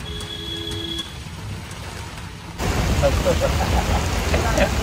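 A sudden downpour breaks partway through, a dense, loud hiss of rain on surfaces swelling abruptly out of quieter background noise.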